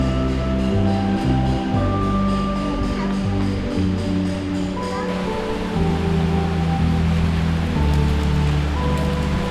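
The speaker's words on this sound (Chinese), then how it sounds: "哎呦，大的雨！" Heavy rain pours steadily as a constant hiss, with voices and other tonal sounds running over it throughout.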